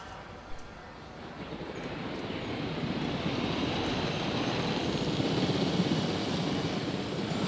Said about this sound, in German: So, dann holen wir uns mal einen Helikopter.